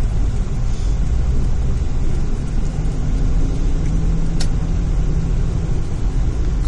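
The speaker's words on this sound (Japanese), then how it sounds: "車の音ぐらい。" Steady rumbling car traffic noise drones loud and constant from nearby, a broad low roar with no clear pauses, and no one speaking.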